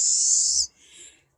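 Backyard birds squawk outdoors, picked up by a bird cam. One harsh, high-pitched squawk lasting about half a second is followed by a fainter, shorter call, close and with no talking.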